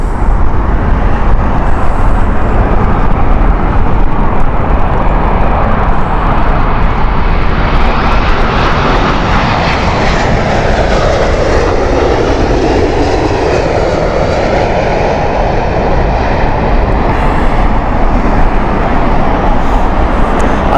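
An American Airlines Boeing 787-9 widebody jet at Heathrow on a windy morning roars loudly and continuously, the engine noise swelling and shifting in pitch as it passes close by.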